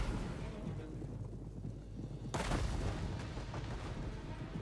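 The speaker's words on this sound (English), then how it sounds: "force the enemy to shoot you from extreme distance, like what I'm doing now, most of the artillery rounds will simply harmlessly, you know, bounce away from your enemy" Artillery fires in a Rome-era strategy game multiplayer battle between Epirus and Carthage, a sudden heavy boom halfway through over a constant rumbling battle ambience, loud and broadband.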